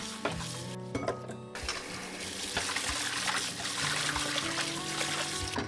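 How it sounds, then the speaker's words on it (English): Squid pieces are rinsed in water in a kitchen, with close splashing, trickling and sloshing as they are stirred and swirled. Occasional light knocks against the bowl sound through the steady wash of water. "Then rinse them twice in water."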